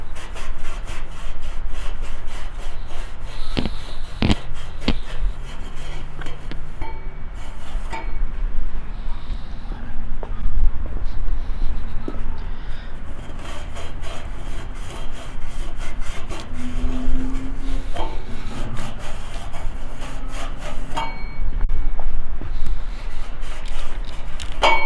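A carbon fiber car part is rubbed with metal polish by hand. The result is a continuous, fairly loud rough scrubbing and rasping with scattered knocks, set against a low rumble throughout.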